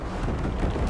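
Rocket explosion in Ghost Recon Breakpoint, a dense, sustained rumbling blast filling the whole second at steady loudness, heavy in the low end with no talk over it.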